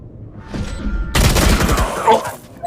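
Phantom rifle fire in Valorant comes as a loud, rapid burst that starts abruptly after a quieter lead-in and stays close, with faint talk underneath.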